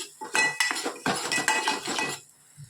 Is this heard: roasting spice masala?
yes